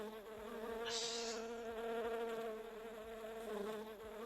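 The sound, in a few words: buzzing bees stream interaction effect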